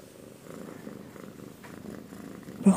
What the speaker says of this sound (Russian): Слышите, как хуркает?